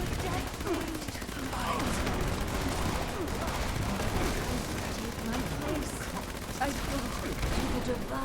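Steady, rapid gunfire rattles continuously while fighting mobs in Fallout 76, a dense barrage of shots with a voice talking faintly beneath.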